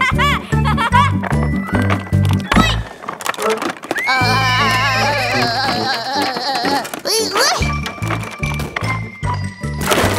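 A cartoon horse whinnies in a long, wavering neigh, set among bouncy music with jingling and clip-clop sounds.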